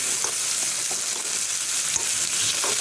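Ema Datshi is stirred in a pan, frying with a close, constant sizzle broken by soft, repeated scraping strokes of the spoon.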